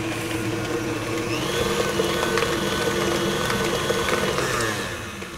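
An electric mixer beats pumpkin cheesecake filling with a steady, close, loud motor whir and whine, with slight shifts in pitch as it works and a slight drop in level at the very end.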